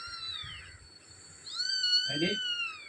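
A kitten meows in a thin, high, drawn-out cry, and a second, louder meow follows. Both are close, with a voice murmuring faintly beneath.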